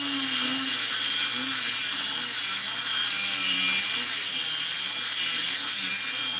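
A rotary grinder ports the cylinder of a 52mm 372 chainsaw, giving a loud, continuous high-pitched whine with a slightly wavering rubbing tone underneath, steady throughout with no talk.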